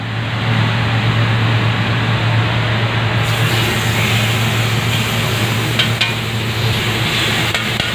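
Pieces of chicken inihaw sizzling on a hot grill, a loud, steady, close-up crackling hiss that runs unbroken with a low hum beneath it.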